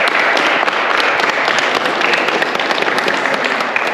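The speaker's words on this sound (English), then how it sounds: "Give yourself a round of applause." Participants at an aerial drone competition scrimmage break into a loud, continuous round of applause, dense clapping at close range holding steady for several seconds with no talking.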